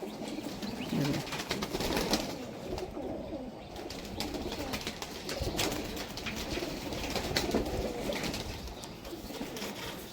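High-flying Pakistani pigeons coo steadily in a loft during the monsoon, a dense, continuous murmur of overlapping calls close by with no break.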